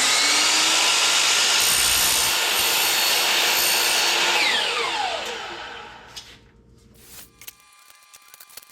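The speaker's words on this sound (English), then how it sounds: "I usually use a really nice chop saw" A chop saw cuts through aluminum window screen frame bars, a loud, sustained high-pitched whining grind that winds down as the blade spins to a stop, followed by quiet handling clicks and clatter.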